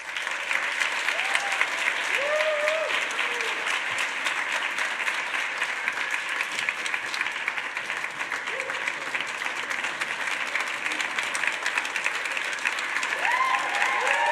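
Sustained applause from a conference audience after a business talk, steady dense clapping filling the room for the whole stretch, with a few faint cheers rising above it.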